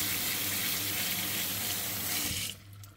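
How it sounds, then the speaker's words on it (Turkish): Tap water runs steadily into a kitchen sink as tomatoes are rinsed under it, a loud, close hiss that cuts off abruptly near the end. "Domatesleri yıkıyorum böyle"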